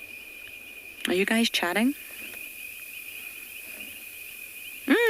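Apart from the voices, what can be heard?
insects chirping at sunset on safari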